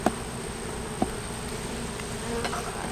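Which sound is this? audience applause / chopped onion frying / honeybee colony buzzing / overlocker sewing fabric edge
honeybee colony buzzing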